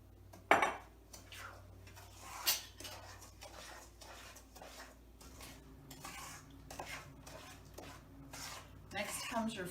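Eggs being stirred into brownie batter in a bowl with a fork or spoon, close clinks and scrapes against the bowl with a couple of sharper knocks, alongside someone talking.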